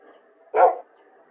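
A single short dog bark from the Minecraft TerraFirmaCraft mod, close and fairly loud, standing alone against a faint background hum.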